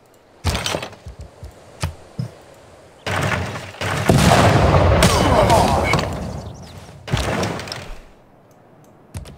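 Units open fire in a Civilization VI strategy game, a series of sharp, loud cracks and booming bursts in uneven clusters, with a sustained rumbling volley in the middle before a final burst.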